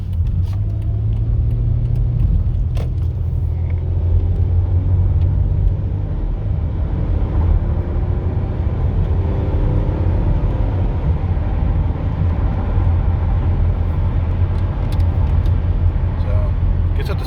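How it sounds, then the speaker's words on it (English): In-cabin sound of a 2013 Toyota Sienna minivan with 92k miles under hard acceleration, a loud, steady low engine and road rumble that holds throughout. "So I'm going to try to get on the pedal pretty hard right here, give it some good acceleration"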